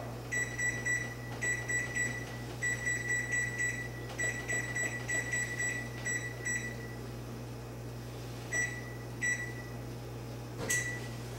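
An oven control panel beeping as its timer is set for smoking ribs, with clusters of quick electronic beeps repeating over a low steady hum, then sparse single beeps and a final clatter.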